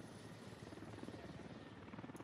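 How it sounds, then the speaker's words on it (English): A helicopter flies in the military shooter game Squad Ops, its rotor chopping in a steady, rapid pulse at a moderate distance, alone and continuous. "they hear the helicopter to their east now"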